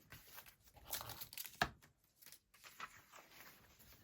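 Scissors cutting white paper for a junk journal, quiet close snips and rustling with a few sharp cuts, including one crisp snip near the middle, with no talking.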